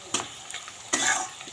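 Turmeric and meat masala sizzle in hot oil as a spoon stirs through them in two short scraping strokes, close and fairly soft.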